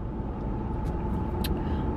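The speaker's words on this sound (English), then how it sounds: "my car is so freaking loud." A loud car engine holds a steady low rumble from inside the vehicle throughout, with faint higher hiss and no one talking.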